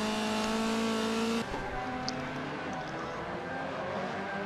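Race cars in a sim racing league video game give a sustained, high engine whine that drops sharply as the car shifts gear partway through, then resumes at a lower pitch, with no talking.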